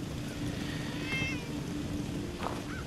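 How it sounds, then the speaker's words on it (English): A cat meows in the video game Fallout 4: a short, wavering cry heard once at moderate volume over a steady low hum of game ambience, with a brief second chirp near the end. "No, it was a cat, wasn't it?"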